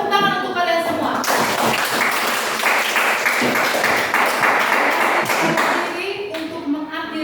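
Students in a classroom clap together at the end of a lesson, a loud burst of applause of about five seconds, with a voice speaking briefly before it starts.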